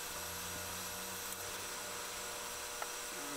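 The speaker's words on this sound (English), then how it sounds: "send in an actual drill bit and begin boring this cannon out" Steady high-pitched whine of a drill bit boring out the barrel of a small homemade cannon, continuous and fairly loud with a constant motor hum underneath and no pauses.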